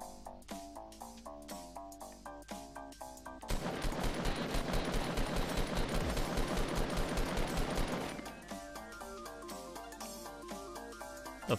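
Gunfire in Fortnite Battle Royale: a sustained, dense burst of rapid shots lasting several seconds rises over quieter game music and then drops away, with no talking.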